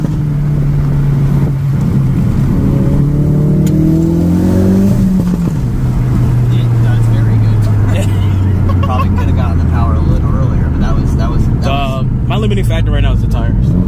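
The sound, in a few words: Ford Focus RS engine accelerating in first gear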